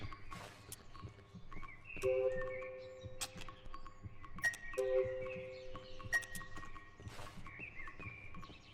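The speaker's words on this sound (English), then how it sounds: "I hear birds." Synthetic bird chirps and tweets in the horror video game Cry of Fear ring out over a low ambient hum, with a few sustained tonal beeps and clicking footsteps.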